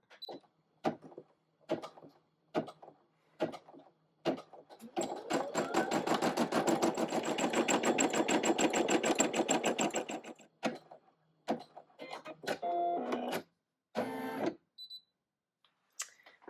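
A Brother embroidery machine stitches a stem after a thread change, its rapid needle clatter running steadily for about five seconds amid scattered clicks and handling knocks, then stopping abruptly.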